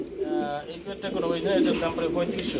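Black exhibition pigeons coo in close, soft throaty bursts that repeat in an uneven rhythm, with people speaking over them at a pigeon sale.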